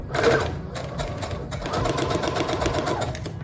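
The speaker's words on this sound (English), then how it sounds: "we're just gonna sew all the way around it" A sewing machine stitches around pajama shorts, running steadily and fairly loud with a continuous rapid needle rhythm and no pauses.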